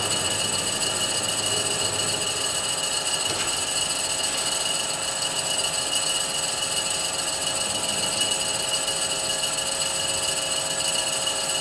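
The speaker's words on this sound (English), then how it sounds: "Now I have taken 1 millimeter" A reciprocating shaping machine cuts metal at a one-millimeter depth on its third speed, giving a continuous loud mechanical roar with a rough, grinding texture and steady strokes throughout, no voices over it.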